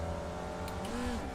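Race car engine in the iRacing sim held at high revs for a standing start, a steady loud harmonic drone with the pitch sliding slightly, alone with no talk.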